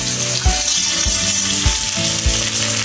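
Two bangda mackerel fry in hot oil in a pan, a loud continuous sizzle and crackle broken by regular low thumps every half second or so.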